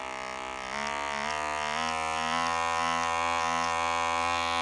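A steady electric buzzing hum from a FOREO facial cleansing brush, strong stacked harmonics, stepping up in pitch and intensity a few times as power is raised, continuous and close, with no voices.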